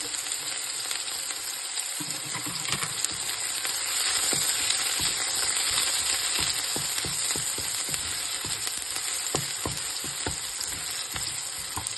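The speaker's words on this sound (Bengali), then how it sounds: "ফোড়নটা হয়ে গেলে আঁচটা কমিয়ে দিয়ে এর মধ্যে আমি পেঁয়াজ কুচি দিয়ে দেবো" Chopped onion sizzles steadily in hot oil after a dry red chilli tempering, with near, continuous frying hiss and occasional stirring clicks and scrapes throughout.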